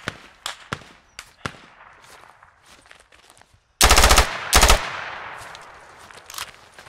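Video game gunfire, scattered sharp single shots followed by two loud rapid automatic bursts close by, then more isolated distant cracks.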